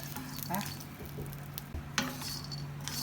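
Dry pumpkin seeds rattle and crackle as they roast in a pan, stirred with occasional utensil scrapes over a low steady hum.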